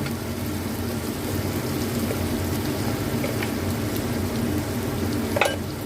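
Turmeric, coriander powder and cumin powder sizzle in a pan on a ginger, onion, garlic and tomato paste while being stirred, a steady close frying hiss with a few faint scrapes.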